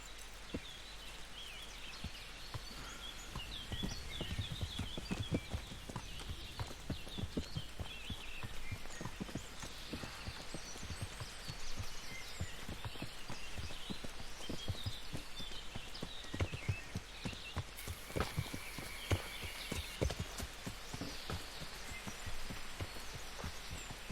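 Steady clip-clop of horse hooves at a walking pace in Kingdom Come: Deliverance, continuous and fairly close, with a soft hiss underneath.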